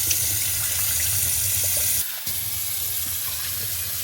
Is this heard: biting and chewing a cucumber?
no